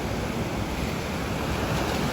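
Sea waves surge continuously at Bolinao beach in Pangasinan, a steady broadband wash of surf with wind rumbling across the microphone, loud and unbroken throughout.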